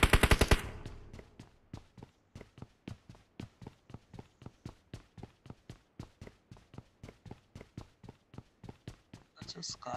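Rapid pistol and gun fire from the BGMI battle royale game, a long run of evenly spaced sharp shots at steady rhythm, preceded by a brief dense burst and ending with a scrape.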